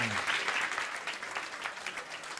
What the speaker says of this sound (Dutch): Applaus voor de dames